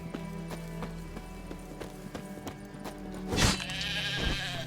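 Animal sounds from The Witcher 3 game world: a sheep's bleat rises among rhythmic hoof clopping and game ambience, with a louder burst near the end.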